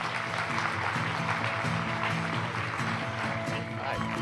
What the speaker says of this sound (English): How about a round of applause for Mr.